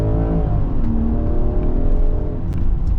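A Land Rover Defender's engine, with the transmission set to sport mode, revs loud and close in a steady, sustained roar for a few seconds, alone without talk.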